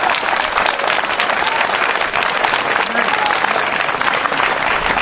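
A church congregation bursts into sustained, dense applause acclaiming Jesus Christ, steady clapping from many hands filling the room, with voices mixed in.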